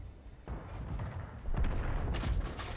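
An M2 gun fires gold rounds in the tank game World of Tanks, giving a few heavy booming reports over engine rumble, with the loudest blast coming late and sharp.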